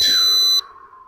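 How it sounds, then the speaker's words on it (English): A Ruko U11 Mini drone's remote controller gives a bright electronic beep that holds steady for about half a second as the drone returns home, then cuts to a fainter lingering tone, close and clear with no talk. "I don't know how to get rid of that beeping."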